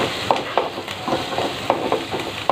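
Mushrooms cook in a pan for a Tamil mushroom pepper curry, with a soft steady sizzle and regular scraping stirs of a spoon about every quarter second. The sound is close and fairly quiet, with no talking.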